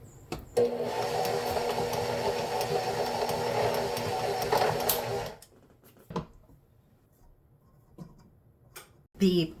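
A kitchen mixer blending nuts into cookie dough for Russian tea cakes, a whirring motor with rattling ticks for about five seconds, then it stops, leaving a few faint clicks and knocks.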